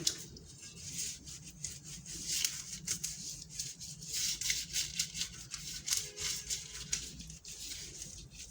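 A pastry brush spreads grease across paper lining a cake tin, making soft, close, repeated scratchy rubbing strokes in an uneven rhythm with no talk.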